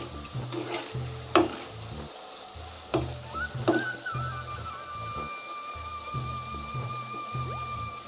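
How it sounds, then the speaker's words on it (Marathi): Moong dal bhaji (pakoda) fry in hot oil, a continuous close bubbling sizzle broken by repeated sharp clinks and scrapes of a utensil turning the fritters. "छान कलर दिसतोवर आपल्याला तळून घ्यायची आहे"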